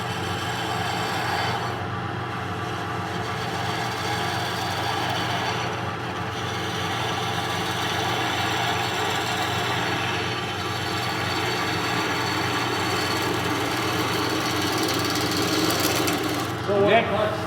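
Wood lathe spinning a spindle blank while a planing cut is made, giving a steady motor hum and continuous whirring of the turning wood throughout, with a faint knock near the end.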